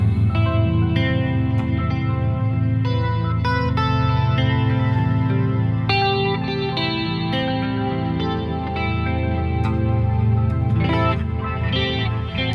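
Electric guitar chords played through a Dream Spring reverb, a wet, washed-out sustained sound with shimmering tails that ring together and keep a steady level throughout.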